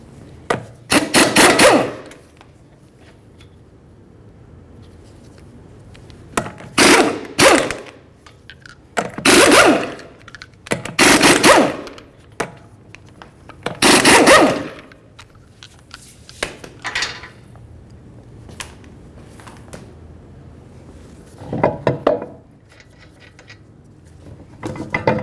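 Lug nuts come off a 2013-2015 Chevy Malibu wheel in loud, close bursts of ratcheting and rubbing metal, about a dozen short spurts separated by quiet pauses, with no talk.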